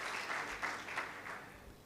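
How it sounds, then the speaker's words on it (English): Audience applause at a regional agroecology summit in Uganda, a short steady burst of many hands clapping filling the room, moderately loud with no voices over it. "Give them a round of applause, guys."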